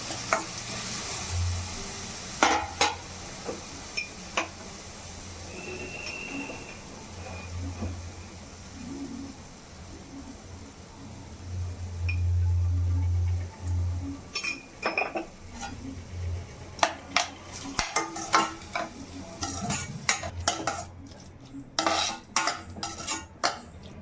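Tomatoes with salt cook in a pan, a spoon scraping and stirring with repeated metallic clinks against the pan over a steady soft sizzle, close and fairly loud.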